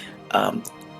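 A single short, rough cough from a player during a tabletop role-playing game session, close and fairly loud, over a quiet background.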